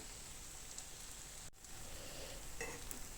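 Steady, soft sizzling of apple pancake batter frying in a very hot pan, a continuous crackling hiss with faint pops and no talking.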